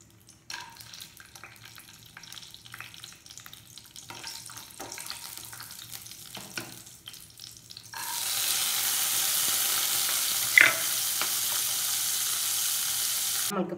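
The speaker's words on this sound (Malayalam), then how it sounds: "രണ്ട് ടീസ്പൂൺ അളവിൽ നെയ്യ് ഒഴിച്ചു കൊടുത്തിട്ട് അണ്ടിപ്പരിപ്പ് മുന്തിരി ഒന്ന് വാട്ടിയെടുക്കുക" Cashews and raisins frying in ghee in a pan for banana payasam start with quiet stirring and clinks, then break into a loud, steady sizzle that fills the second half.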